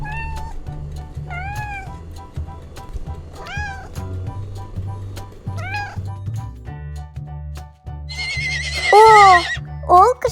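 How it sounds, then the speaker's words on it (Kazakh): At a children's puppet show about farm animals, a foal's high whinny rises near the end, loud and close, after several clear cat meows repeat across the first seconds. "Ол кішкентай құлыншақ."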